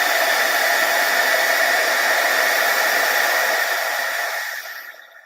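A heat embossing tool blows a steady, loud rush of hot air over embossing powder, a continuous hairdryer-like whoosh that holds for several seconds and then fades out as it is switched off.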